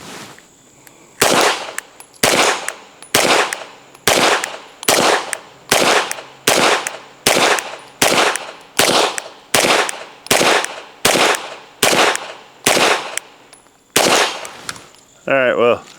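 A CZ P09 pistol fired at a target: about fifteen sharp, loud gunshots in a steady rhythm, roughly one per second and close to the listener, with a short pause before the last shot.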